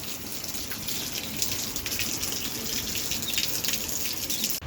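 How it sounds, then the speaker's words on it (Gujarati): Light monsoon drizzle in Chhara village, a steady soft patter and trickle of water running continuously for the whole stretch without voices. "હવે થોડુંક પાછું ઝરમર ઝરમર છે ચાલુ છે"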